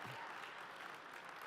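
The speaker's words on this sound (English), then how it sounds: "Let's give them a round of applause." A steady wash of applause from a conference crowd at Autodesk University in Las Vegas, clapping continuously at a distance for a brief moment.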